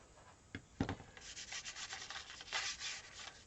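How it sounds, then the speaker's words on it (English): Squeegee dragged across wet paint on an abstract painting, a faint soft smearing rub in a few quiet strokes with small taps, close and alone. "I can take a squeegee, kind of run that,"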